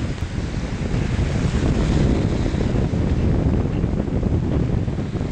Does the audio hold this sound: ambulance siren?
no